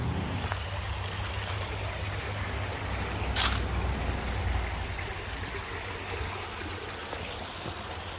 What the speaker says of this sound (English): There's a lot of water coming out of it.